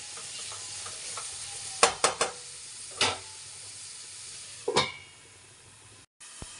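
Tomato gojju frying in a pan gives a soft, steady sizzle, broken by a few sharp spoon scrapes and clinks against the pan as it is stirred, with no talking.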